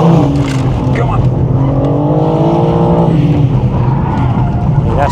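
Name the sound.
BMW M4 S58 engine on race track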